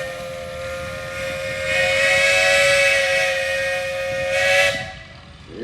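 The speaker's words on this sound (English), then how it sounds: "Wyatt, you got a whistle?" A steam whistle at a steam threshers parade blows one long, loud, steady tone with a hissing edge, swelling in the middle and then cutting off near the end.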